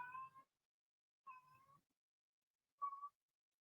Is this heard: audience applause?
no